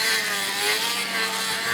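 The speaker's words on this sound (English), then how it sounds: "So, right now, my bike's sounding sick." A dirt bike engine runs steadily with a buzzing, fairly loud drone that wavers slightly in pitch over a couple of seconds, with no voices.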